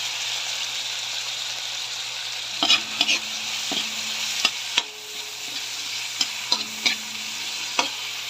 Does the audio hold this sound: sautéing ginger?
yes